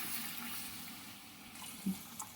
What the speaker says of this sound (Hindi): अब हम इसमें यखनी डालेंगे जो हमने साफ करके रखी थी।